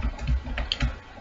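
Code is typed on a computer keyboard, a few soft key clicks in quick succession, close and faint, with no talk over them.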